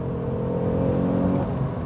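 An Alfa Romeo GTV 3.2 V6 Busso engine roars with a deep, steady, throaty drone, loud and close, holding an even pitch for under two seconds with no speech.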